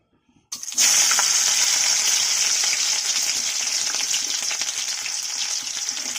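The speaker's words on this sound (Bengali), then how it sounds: "ফুলকপি সামান্য ভাজা হয়ে যাবে" Cauliflower pieces drop into hot oil in a kadai and burst into a loud, steady sizzle that holds evenly after a brief quiet start, close and without any voice.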